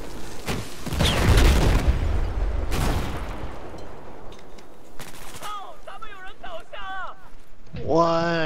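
In Battlefield 4, a grenade goes off early as a loud, heavy blast, followed by crackling gunfire. Voices are heard toward the end.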